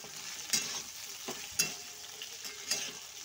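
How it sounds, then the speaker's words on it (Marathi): Vegetables for veg biryani, including cauliflower and tomato, sizzle steadily in a pan while a spoon scrapes and stirs in a few sharp clanks, quiet and close with no talk. "आपल्या सर्व व्हेजिटेबल्स छान भाजून घ्यायचे।"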